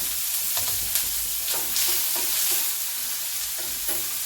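Chopped onion fries in a hot pan with asafoetida tempering, a steady close sizzle broken by occasional scraping stirs, with no voices.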